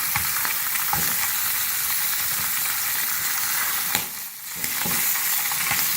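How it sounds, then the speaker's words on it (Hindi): Fish heads sizzle steadily in hot oil in a pan over a medium flame, a constant close crackling hiss with a few soft scraping clicks and a brief dip near the end, no voices. "मछली की सरों को हम मीडियम फ्लेम पर फ्राई कर रहे हैं।"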